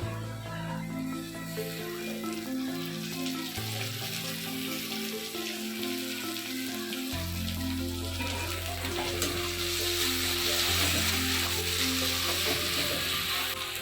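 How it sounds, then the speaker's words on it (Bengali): Chopped tomato and ginger paste fry in a pan for Bengali masoor dal, a close, steady sizzle with scraping stir strokes and a wetter, bubbling texture, running continuously for over ten seconds. "এবার আমি টমেটো কুচি আর আদা বাটা দিয়ে দিচ্ছি।"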